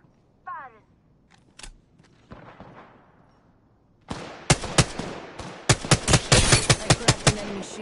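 Gunfire in Apex Legends: a few scattered single shots early on, then from the midpoint a dense run of loud, rapid automatic bursts, with a voice calling out over the opening seconds.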